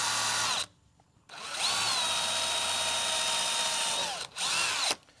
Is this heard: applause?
no